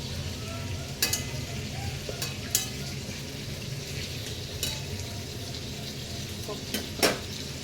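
Home-grown eggplant frying in a small amount of oil gives a steady, moderate sizzle throughout, broken by a few sharp clinks of a utensil against the pan.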